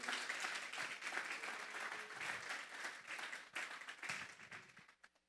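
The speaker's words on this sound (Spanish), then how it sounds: "Vamos a darle una ofrenda de palmas a Dios en esta hora." A church congregation claps together in sustained applause, dense and steady for about five seconds before tapering off at the end.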